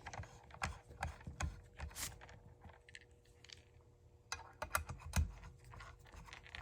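Small screws are driven into a plastic case for a Stern Insider Connected kit install on a pinball machine, giving faint, irregular ratcheting clicks and creaks from a screwdriver, close and quiet, with no talk.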